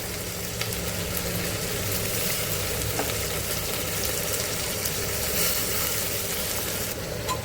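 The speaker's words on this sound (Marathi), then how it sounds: "मस्त भाज्या सगळ्या भाजून घेतल्या." Mixed vegetables with pigeon peas, peas and soaked lentils roast in a pan for masale bhaat, giving a steady, even sizzle and hiss that holds throughout with no talking.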